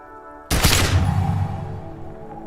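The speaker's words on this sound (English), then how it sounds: "A plume of smoke and fire erupts from the gun, and your hand goes numb from the explosion." A single loud gunshot in the video game Disco Elysium cracks out at half a second, then a long, dense rumbling tail slowly fades beneath a faint steady ambient hum.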